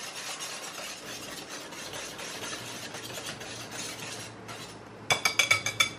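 Dry ingredients for banana bread, including jello mix, are stirred in a bowl with a steady scraping, rubbing sound. A short run of sharp clinks against the bowl closes it, and no one speaks.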